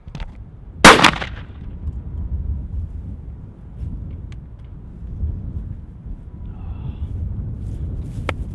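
A single loud shotgun blast from a 3.5-inch double B shell through a Kicks High Flyer choke at 40-yard pattern testing, sharp and close, then outdoor wind rumble and faint ambient noise.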